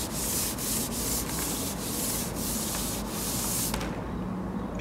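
A cloth rubbing back and forth in a narrow gap of a refrigerator that has stopped working, giving a loud close scrubbing hiss with regular strokes about every half second before it suddenly stops.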